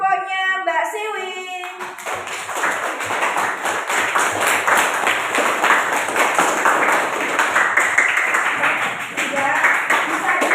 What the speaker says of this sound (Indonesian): Kita beri tepuk tangan untuk kelompoknya Mbak Siwi.